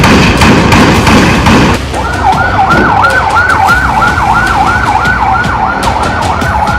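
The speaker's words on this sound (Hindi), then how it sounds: "इस अस्पताल के बाहर एक के बाद एक एम्बुलेंस फ्लैश लाइट जलाकर पहुंचती है" An ambulance siren wails outside a hospital in the West Bank, a loud rising-and-falling cycle repeating steadily after an opening burst of rumbling vehicle noise and thuds.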